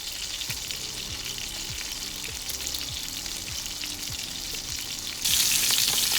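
A ribeye steak sizzles skin-side down in hot oil in a pan, giving a steady, close frying hiss with occasional scraping or shifting sounds, which swells louder and brighter near the end.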